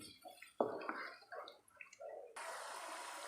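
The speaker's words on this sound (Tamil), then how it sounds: "இதுக்கப்புறம் நம்ம புளி தண்ணியை விட்டுருலாம்" Soft clinks and sizzling in a pan, then tamarind water pours in with a sudden steady rushing hiss that continues to the end.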